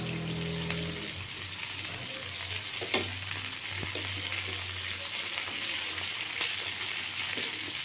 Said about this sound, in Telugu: ఇప్పుడు కొబ్బరి ముక్కలు వేస్తానండి. టమోటాలు వేస్తాను ఫస్ట్.